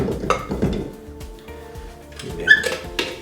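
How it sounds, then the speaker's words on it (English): Mixing bowl holding sifted gluten-free flour set onto a stand mixer, giving a few close clunks, a scrape and a bright metallic clink in quick succession. "now carefully put that onto your mixer."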